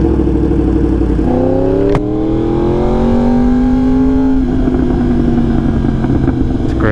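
A 2020 Yamaha R1 sport motorcycle engine cranks and fires up, then revs with rising and falling pitch before settling into a loud, steady idle, close to the bike and without any talk.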